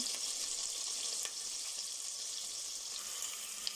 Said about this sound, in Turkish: Salçamızı kavuruyorum.